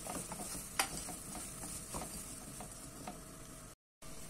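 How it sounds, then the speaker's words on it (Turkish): Washed red lentils and vegetables sautéing in a pot, a low steady sizzle with faint stirring scrapes and an occasional sharp utensil tap against the pot, quiet and close. "Ardından yıkamış olduğum kırmızı mercimeği ve sebzeleri ekleyelim. Şöyle birkaç dakikada kavuralım."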